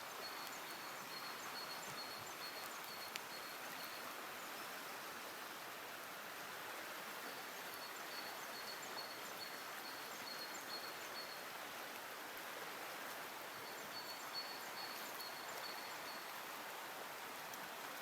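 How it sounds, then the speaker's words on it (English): Water runs outdoors in a steady, hissing wash, with faint, sparse bird chirps high above it throughout. "You can hear the water running, you may hear the birds tweeting."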